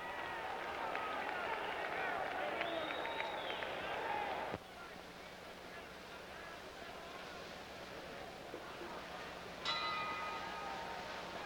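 Boxing ring bell ending round one of a ten-round pro fight at Madison Square Garden, a bright ringing tone briefly sounding under an announcer's commentary and crowd noise, with a second short bell strike near the end.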